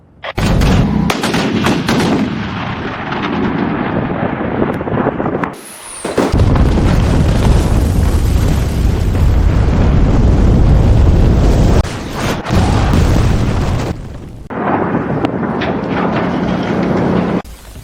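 A dramatized artillery barrage, with guns firing and shells exploding around an outer siege position in a historical battle scene. The booms, deep rumbling blasts and rapid gunfire are loud and continuous, with a few brief lulls between waves of impacts.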